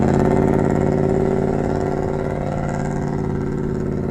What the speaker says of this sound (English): it has a 200cc single cylinder engine, and I can't think of the horsepower, but here it is